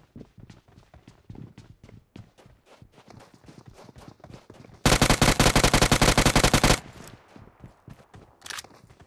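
Rapid automatic gunfire in a BGMI gunfight bursts loud and dense for about two seconds mid-clip, framed by quieter rhythmic footstep-like taps and a later short shot.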